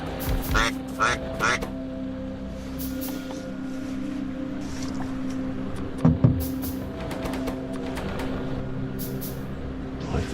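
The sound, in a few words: duck call imitating a basic mallard quack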